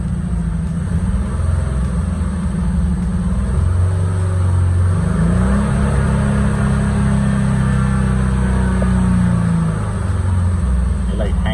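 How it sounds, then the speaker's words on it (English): A car engine runs close by at a steady idle, then climbs in pitch midway as it is revved and held at higher RPM, with a continuous mechanical drone throughout. "Just giving us more RPM."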